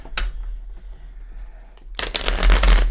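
A Crystal Vision tarot deck being shuffled by hand: soft card riffles and rustles, a brief burst early, then a dense, louder shuffling flurry in the final second, close by.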